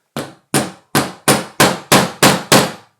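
Eight sharp hammer taps on a metal punch set against a hard oak cabinet door, close and loud, evenly spaced and gradually quickening, each a crisp strike with a quick decay and no talking.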